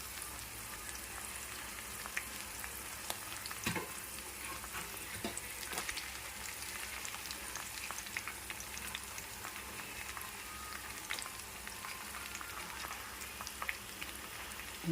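Potatoes and peas for vegetable fried rice fry in a pan with a constant soft crackling sizzle and a few light stirring taps, quiet and close.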